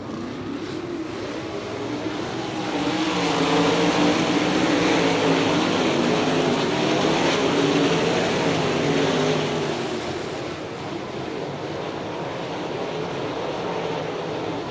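World of Outlaws sprint cars racing around the dirt track at Hartford, Ohio in 2002, a roaring pack of engines swelling as the cars pass near, then easing to a steadier distant drone.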